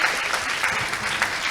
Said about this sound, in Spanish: Y, bueno, un aplauso.